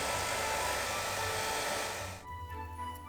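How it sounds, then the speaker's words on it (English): A hair dryer blows a steady, loud, broad roar while melting a 3D-printed beard into place, then cuts off abruptly after about two seconds, leaving a low hum and quiet rustling. "melting the beard in place with a hairdryer"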